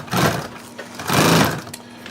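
A sewing machine top stitching webbing runs in two short bursts of rapid mechanical whirring and needle chatter, close and fairly loud, with a brief pause between them.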